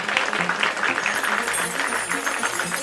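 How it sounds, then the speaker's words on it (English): A crowd claps loudly and steadily, a dense, continuous patter of many hands filling the whole stretch. "I need you to clap your hands."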